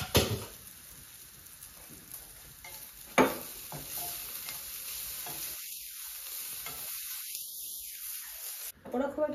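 Vegetables frying and being stirred in a pan in a home kitchen, giving a steady sizzle with scraping stirs that breaks off near the end, briefly silent, before the noise returns.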